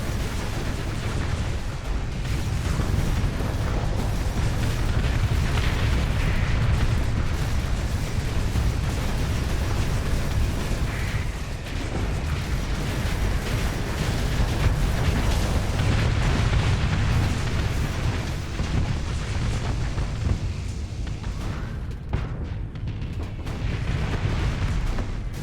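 Pegasus missiles in a video game explode in a dense, rolling barrage of booms and rumbling blasts that continue without a break and stay loud throughout, easing only briefly near the end.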